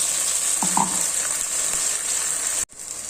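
A paste of three large ground tomatoes is poured into a hot pan for a kuzhambu, setting off a loud, steady close sizzle that holds evenly and then cuts off abruptly before resuming.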